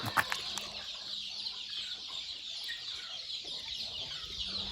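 Native country chickens cluck softly and intermittently in a farmyard, a steady murmur of low calls with a few sharper clucks near the start, fairly close but not loud.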